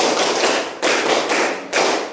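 Classroom pupils clap together in bursts, each a dense wash of many hands lasting under a second, with sharp restarts at roughly regular intervals, fairly close and loud.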